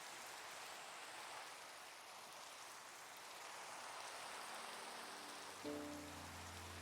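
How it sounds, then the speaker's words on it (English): Rain falls steadily in a video game as an even, soft wash of hiss, faint and continuous, with a brief low tonal sound near the end. "oh, it's raining, so that'll hydrate the soil anyway"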